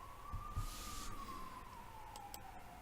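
An ambulance siren in a city wails faintly from a distance, one steady tone sliding slowly up and down under a quiet room background.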